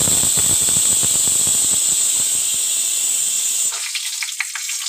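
Nigella seeds and green chilli sizzling in hot oil in a kadai, a bright steady hiss with crackling pops that thins, then gives way to a softer settled fry near the end, close and alone.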